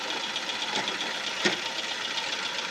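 A misfiring Nissan B15 engine idles with a steady low rumble and a subtle uneven knock, one slightly louder beat standing out midway, heard fairly close with no talking.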